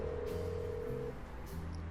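Steady telephone tones sound as a number is dialed on a phone in the Chicken Police: Paint the Town Red game, alone, with one tone shifting pitch partway through.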